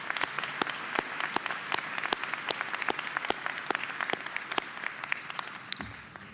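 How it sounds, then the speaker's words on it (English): A commencement audience applauds the college chorus, a moderately faint, sustained patter of many hands punctuated by a few sharp, distinct claps close by, continuing evenly throughout. "Can we have one more round of applause for the Columbia College Chorus?"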